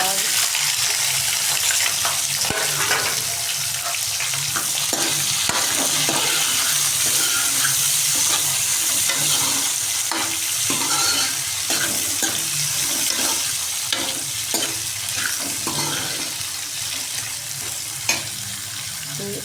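Onions frying in hot oil spiced with cardamom for restaurant-style shahi paneer, giving a loud, steady sizzling hiss close by with faint clinks of stirring.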